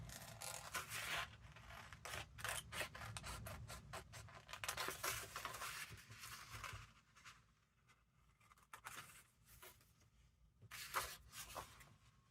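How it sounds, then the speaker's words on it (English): Scissors or paper being worked while cutting the top flaps off an envelope made from vintage book paper, a close run of dry scratchy snips and rustles, busy at first, then quieter with a few sharp cuts near the end. "The top two flaps need cutting off."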